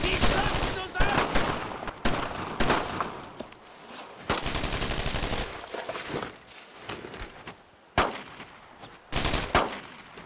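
Battle gunfire in Brothers in Arms set in Normandy 1944: repeated loud bursts of rifle and machine-gun fire, some near and sharp, others duller, with shouting voices between the volleys.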